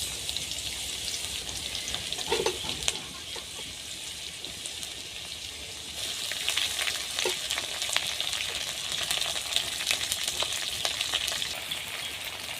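Shrimp and crushed garlic fry in hot oil, a steady, fairly quiet hiss and crackle that continues without a break and thickens partway through.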